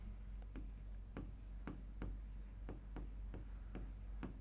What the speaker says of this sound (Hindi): लो जी, लिखता हूं